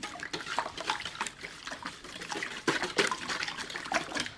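Batter for fried chicken being whisked in a bowl, a rapid wet sloshing and slapping rhythm of repeated strokes, close and fairly loud throughout.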